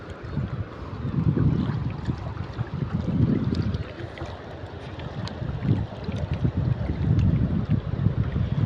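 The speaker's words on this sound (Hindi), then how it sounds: "अभी भी पानी तेज़ आ रहा है, इस तरह तेज़ आ रहा है, इस तरह बहुत ही तेज़ आ रहा है पानी।" Fast-flowing floodwater rushes through a village in a continuous broad roar, with surging swells and gusty wind buffeting the microphone.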